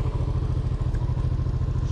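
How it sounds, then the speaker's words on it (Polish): A hot motorcycle engine runs close by with a steady, rapid low throb and light clatter, its radiator fan whirring underneath throughout, with no talking. "Test wentylatora, rozgrzany silnik, wentylator pracuje poprawnie"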